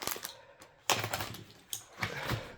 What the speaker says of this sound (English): let me cut it open.